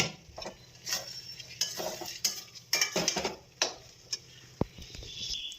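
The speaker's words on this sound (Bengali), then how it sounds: "এই যে এখানে মাংসের মশলা কষানো হচ্ছে" Mutton spice masala being stir-fried in a pot in a home kitchen, with a spoon scraping and clinking against the metal in irregular strokes over a soft background sizzle.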